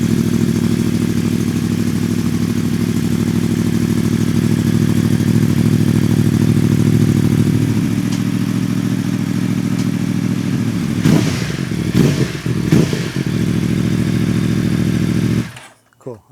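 A tuned Yamaha R1M sport motorcycle engine idles loudly and steadily up close, then revs sharply several times in quick bursts before cutting off abruptly.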